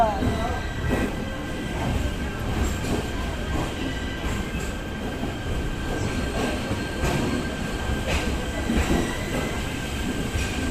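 A MEMU train rolls into Indore Junction with a steady rumble of wheels on rail, repeated clacks and a faint squeal, and voices can be heard in the carriage.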